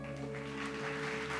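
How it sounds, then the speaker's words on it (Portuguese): A church congregation applauds during a sermon, a steady, continuous wash of clapping heard faintly from a distance over a low electronic hum. "Você pode aplaudir a Ele?"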